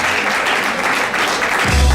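Brief, dense applause from an audience at an awards ceremony, a steady wash of clapping that swells toward the end.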